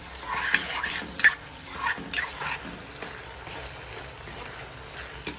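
A spoon stirs ginger-garlic paste in a pan while making chole, giving several scraping, clinking strokes over a soft, low sizzle at close range.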